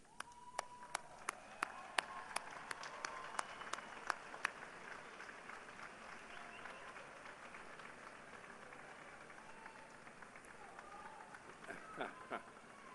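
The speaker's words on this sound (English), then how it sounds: "why don't you applaud and give a wave to those people who have made this possible for you" Scattered applause from a commencement ceremony audience, sharp individual claps spread across a large hall, fairly faint and thinning out toward the end.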